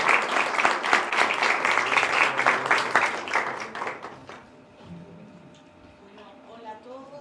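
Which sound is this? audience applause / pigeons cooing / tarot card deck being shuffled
audience applause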